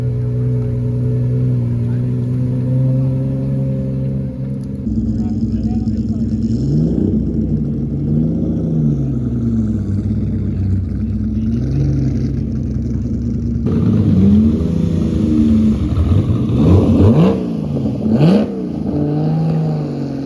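A Ferrari F60 America drives past on a lawn during Monterey Car Week, its engine note rising and falling through several gear changes as it passes close by, with faint talk around.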